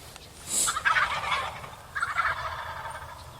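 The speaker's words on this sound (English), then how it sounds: "So Ryan's got his first gobbler, his first public land gobbler, his first Minnesota gobbler" Wild turkey on Minnesota public land gobbling twice, two loud, rattling bursts close by with a short quiet gap between them, no talking.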